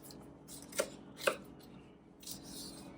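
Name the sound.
cutting fresh garlic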